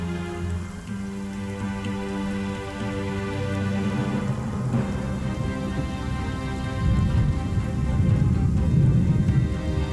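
Heavy rain pours steadily across a desert waterhole at the break of a drought, with low thunder rumbling and swelling toward the end under a bed of sustained musical tones.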